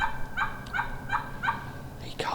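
A wild turkey gobbles from a distance in the woods, four or five rapid rolling bursts in a regular rhythm, then a sharper call at the end, fairly faint.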